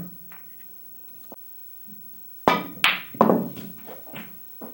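A snooker cue strikes the cue ball for a swerve shot played with raised cue elevation and backspin. After some quiet shuffling come several sharp, close knocks, each trailing off briefly.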